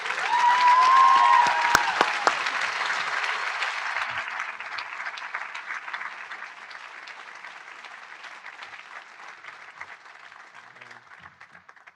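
Audience at a school prize night ceremony applauds the prefects, a loud sustained wash of clapping that gradually thins and fades over several seconds, with no voices over it.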